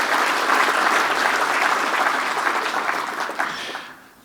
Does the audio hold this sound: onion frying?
no